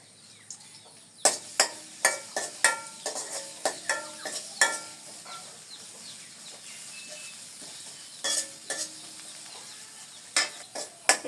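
Garlic and onion cooking in oil in a pan, a faint low hiss under a string of sharp clicks and scrapes from stirring, coming in bursts with quiet gaps between them.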